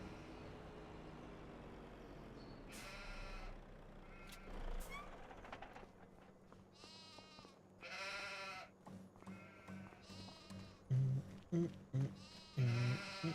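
Sheep bleat in Farming Simulator 25 on a farm, several loud calls, sparse at first and then a rapid cluster of repeated bleats near the end over a low vehicle rumble.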